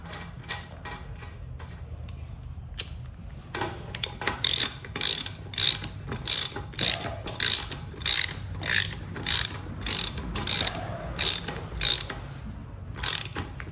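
Close clicking of a ratchet wrench tightening a nut on a vintage go-kart under restoration, loose at first and then settling into a steady run of sharp bursts.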